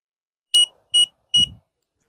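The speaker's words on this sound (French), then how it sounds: "Voilà nos 3 bips." A Mopeka Pro Plus residential tank sensor gives three short, evenly spaced high-pitched electronic beeps, loud and close in an otherwise quiet room.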